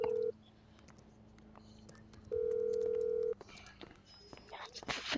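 A phone in the GTA 5 video game gives long electronic ring tones, two sustained beeps separated by a pause, followed by faint game sounds and soft voices.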